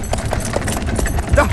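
Horse hooves clip-clopping as a horse sets off in a comedy film scene, a quick irregular patter of hoofbeats, close and loud, mixed with other busy noise.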